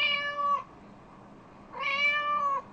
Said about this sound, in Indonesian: Haa, macam itulah bunyi kucing.